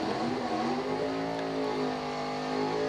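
Drag racing car revving and accelerating hard down the strip at a crisp-morning bracket race, a loud, steady, harmonic engine roar filling the whole stretch without pause.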